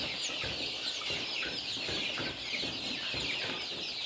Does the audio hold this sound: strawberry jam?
no